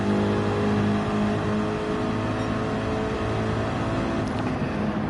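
Racing car engine in a sim racing game at Suzuka, a steady loud drone with harmonic whine that holds throughout, slight easing of pitch as throttle lifts, no voices.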